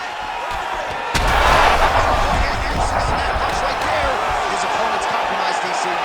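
A straight punch lands in the UFC 5 video game, a sharp heavy slam cutting in abruptly and followed by a loud, sustained roar of arena crowd noise under commentary talk.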